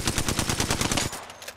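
Rapid automatic gunfire in Apex Legends, a fast burst of about a dozen evenly spaced shots that cuts off abruptly, followed by a brief quieter tail.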